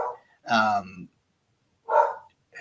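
A dog barks twice in separate bursts, fairly close and loud, with quiet gaps between the barks.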